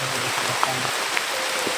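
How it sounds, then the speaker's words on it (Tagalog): Rain falls steadily outdoors, a soft even hiss with a few faint individual drop taps, with no voices. "Kaya ulan na oh."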